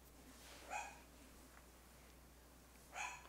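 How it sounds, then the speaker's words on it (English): Dogs barking somewhere off in the distance, two short faint bursts of barks separated by a few seconds of quiet. "I'm gonna go see what the dogs are barking at."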